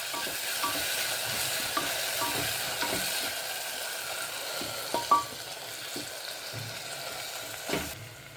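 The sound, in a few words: tomatoes and onions sautéing in a pan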